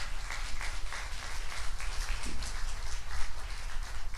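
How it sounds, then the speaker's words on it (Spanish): Church congregation applauding during a sermon, a dense, continuous wash of many hands clapping at fairly close range, steady for several seconds with no talk over it. "Dale un aplauso al Señor, hermano."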